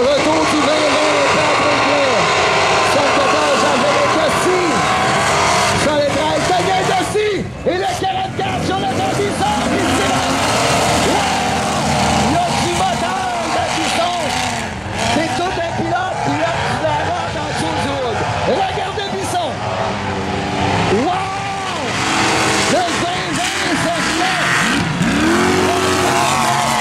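Junk cars in a modified-class qualifying heat at a bazou race in St-Ferdinand, engines droning and revving continuously with occasional tire squeal, heard under steady commentary from an announcer.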